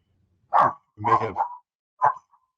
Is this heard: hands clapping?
no